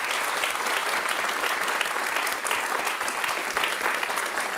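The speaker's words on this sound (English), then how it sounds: "Can we get a round of applause for everyone," Steady audience applause for participants at a Bay Area comics drawing event, a dense even patter of many hands clapping, sustained from start to finish without talk.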